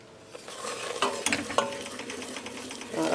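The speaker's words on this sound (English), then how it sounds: "that's nicely sizzling away" Food sizzles and fries in a pan during home cooking, a steady crackling hiss broken by a few clinks and scrapes of stirring with a utensil, close and moderately loud with no voices.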